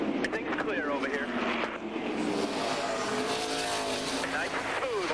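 NASCAR Winston Cup stock cars racing at Martinsville Speedway in the 2001 Old Dominion 500, loud roaring engines sweeping past one after another with rising and falling pitch, under steady radio chatter.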